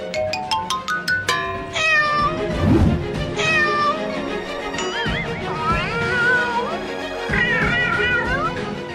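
A cartoon cat meows loudly and repeatedly in long, rising and falling wails over busy cartoon music and effects, starting with a quick run of sharp plucked notes.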